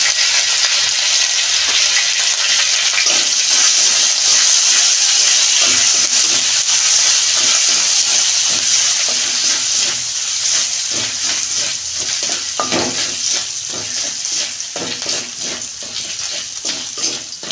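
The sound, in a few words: grated ginger sautéing in a pan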